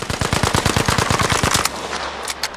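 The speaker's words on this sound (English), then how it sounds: "There's also the subtle change in audio when firing a weapon in Battlefield 5." Rapid automatic weapon fire from the video game Battlefield 5 rattles in a steady burst of close, loud shots for about a second and a half, then stops, leaving brief mechanical clicks and a fading tail.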